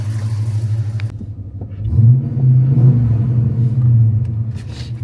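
A Dodge Magnum fitted with widebody Hellcat wheels rumbles loud and close with a deep, throbbing idle, then blips up with a short rev and settles back into a heavy burble.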